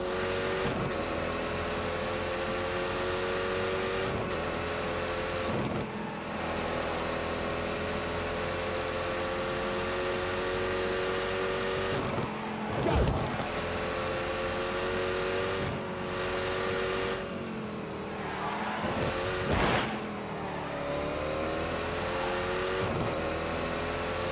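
A car engine with an 8-speed gearbox and ceramic wheel bearings drones loudly and steadily throughout, with rising and falling pitch as it revs, the sound continuous and close with no talking.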